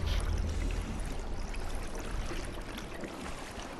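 Rising water in a flooded dungeon in Conan Exiles, a steady close rush and trickle of flowing water that holds constant throughout, slowly easing slightly toward the end, with no voices.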